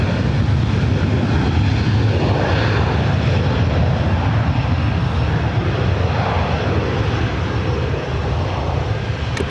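An Embraer E-Jet roars down the runway on takeoff at LAX, a loud, steady broadband engine rumble that holds strong throughout without a break.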